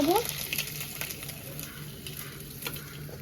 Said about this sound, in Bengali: সব মাছ ভাজা হয়ে গেছে এবার আমি তুলে নেব